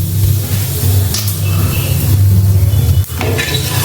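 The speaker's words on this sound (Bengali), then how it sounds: "তেলটা গরম হয়ে গেছে, এবার আমি সামান্য একটু কালো জিরে ফোড়ন দিয়ে নেব।" Black cumin seeds tempered in hot oil in a pan give a loud, steady hiss and spatter with a low hum underneath, and a faint clink partway through.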